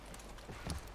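In The Last of Us, a horse's hooves give a few soft clops, faint and brief over a steady game background.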